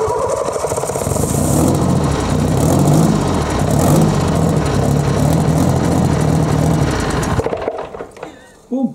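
A Kirovets tractor's pilot-started engine runs as a loud, steady diesel rumble and then cuts off abruptly near the end, leaving some faint clatter.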